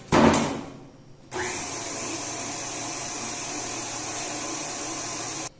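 A planetary stand mixer beats cake batter, starting after a brief bump and pause, then running as a loud, steady whirring motor hum close by for several seconds without talk.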